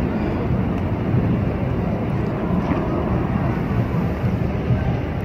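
A regular boat passing on the river at London's Tower Bridge, heard as a steady, broad engine and water rumble with wind noise throughout, loud and continuous, no talking.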